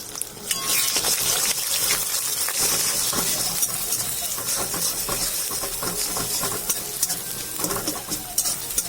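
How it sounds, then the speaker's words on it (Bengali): Beaten egg sizzles and fries in hot oil in a wok for chow mein, a loud steady crackle with metallic scraping and stirring scrapes throughout. "আমি এবারে ডিমটাকে ভেজে নেব"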